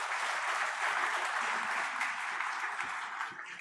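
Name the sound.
audience applause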